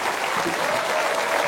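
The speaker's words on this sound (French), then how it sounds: "Applaudissements du public." TV game show studio audience applauding, a dense, steady burst of clapping heard alone for a moment, moderately loud.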